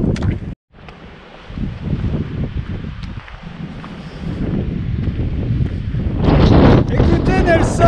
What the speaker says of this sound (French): Écoutez Nelson, il y a un petit peu de vent, la température est fraîche.